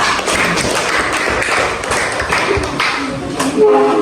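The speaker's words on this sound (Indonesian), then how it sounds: "Kita beri tepuk tangan dulu untuk kelompok 2" A classroom claps for a student group, a steady, dense patter of applause close by, with voices mixed in beneath.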